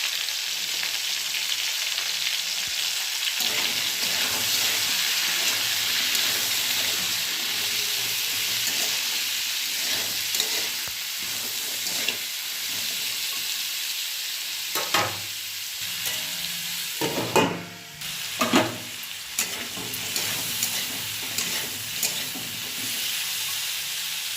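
Ridge gourd and pumpkin fry with turmeric in a hot pan, giving a steady close sizzle with scraping stirs, a few sharper clatters near the end and no voices.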